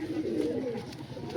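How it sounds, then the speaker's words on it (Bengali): A male Andhra pigeon coos in a low, soft, rolling murmur, steady and close, with faint room noise behind it. "এটা নর পায়রা আছে"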